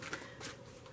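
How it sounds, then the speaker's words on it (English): A deck of tarot cards being shuffled close up, a short soft papery riffle of quick flicking bursts, quiet and without voices. "We're going to get the other deck and I'm going to shuffle."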